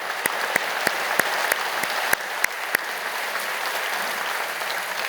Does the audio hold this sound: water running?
no